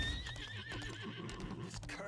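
A horse whinnies in the video game Lost Ark, a high wavering neigh over ambient music and background effects, fairly close.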